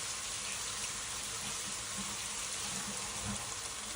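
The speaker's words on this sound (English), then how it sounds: "shooting water, shooting water." Water runs steadily from a tap in an even, hissing stream, with faint clatter underneath and no voices.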